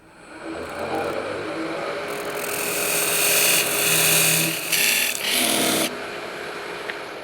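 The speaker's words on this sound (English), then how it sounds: "it's time to cut off this top." Lathe cutting the top off a wood-turned piece: a steady motor hum underneath rising bursts of harsh tool-on-wood cutting noise, close and fairly loud.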